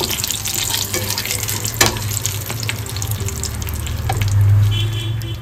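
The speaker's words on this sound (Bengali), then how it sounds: "ভালো করে আমি গরম মশলাগুলোকে ভেজে নিয়েছি।" Whole garam masala spices frying in oil in a pan, a steady close sizzle with a few stirring clinks and scrapes, louder toward the end, with no talk.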